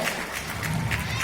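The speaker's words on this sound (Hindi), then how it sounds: "सभी ने ताली बजाकर, जोरदार ताली बजाकर स्वागत करना है।" A dense, even wash of crowd applause at a political meeting welcoming guests, continuous and moderately loud without distinct individual claps.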